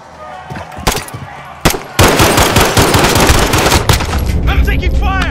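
Rapid bursts of automatic gunfire and single shots from the Call of Duty Warzone video game, loud and dense, with sharp cracks early and sustained firing throughout, a voice faintly mixed in.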